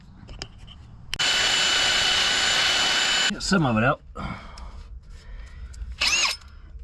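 A power tool whines loudly and steadily for a couple of seconds as a sanding disc grinds against metal on a Jeep JL rear anti-rock bar, then stops; a person speaks briefly afterward.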